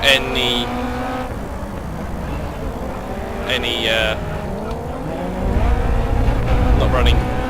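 A race car in Grid Autosport roars with rising, wavering engine pitch as its wheels spin and struggle for grip, loud and close throughout, with someone talking over it.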